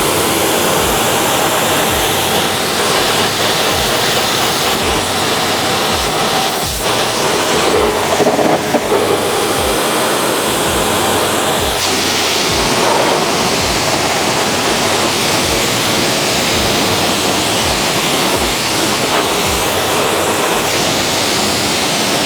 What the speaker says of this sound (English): you don't need to go too close with the pressure washer.